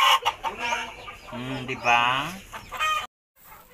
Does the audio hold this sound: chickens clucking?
yes